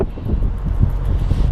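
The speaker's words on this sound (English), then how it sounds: "It's cold out here. Windy and cold." Cold, strong wind gusts outdoors at a truck parking area, rumbling steadily and loudly against the microphone with a low, churning roar.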